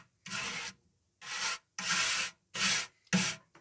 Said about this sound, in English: I take a wire brush and I just gently brush the ceramic.